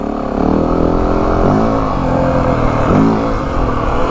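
A Yamaha WR 450F dirt bike rides mid-pace along double track, the engine droning close and loud with repeated throttle surges and rising revs, no voices over it.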